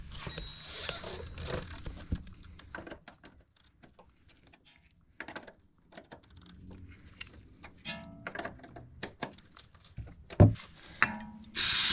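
A hand ratchet clicks in short bursts while tightening brake caliper bolts on a G20 BMW 330i, close by, with metallic handling noises and pauses between strokes.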